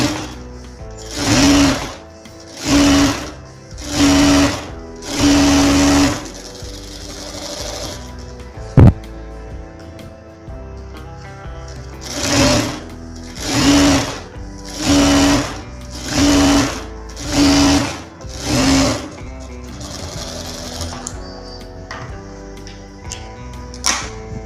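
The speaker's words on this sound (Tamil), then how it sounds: "1/2 இன்ச்சு கேப்பில் ஒரு தையல் போட்டுக்கலாம்." A sewing machine stitches a lined blouse in about ten loud, close bursts of rapid whirring. A short pause in the middle breaks the run, and it ends with quieter handling.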